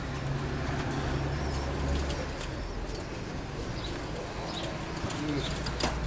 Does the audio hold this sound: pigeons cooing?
yes